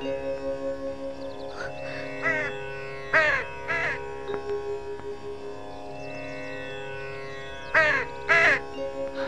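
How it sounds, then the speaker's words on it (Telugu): Several crows caw loudly in short clustered bursts over a sustained musical drone in a Telugu film scene, with quieter gaps between the calls. "ఆ కాకులు కావు కావు నరుస్తున్నాయి కదా."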